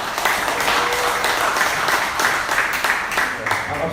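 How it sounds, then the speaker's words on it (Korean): Applause at a meeting of a patriotic civic group as a representative is called forward, a loud, continuous crowd clapping with a crisp, fluttering texture and a voice faintly under it. "크게 박수 해주시면 감사하겠습니다."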